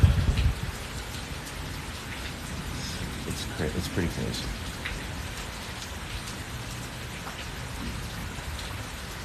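A steady heavy rain pours across a paradise setting during a spring storm, with a dense hiss and low thunder rumbles rolling underneath, while a person talks briefly over it.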